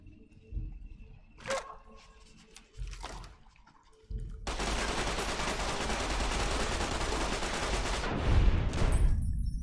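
Gunfire from a weapon in Fallout: New Vegas comes first as a few sharp, separate shots, then as a sustained loud burst of rapid fire that lasts several seconds and ends in a couple of heavy bangs.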